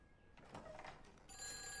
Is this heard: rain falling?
no